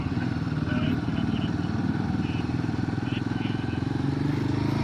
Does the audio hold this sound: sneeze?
no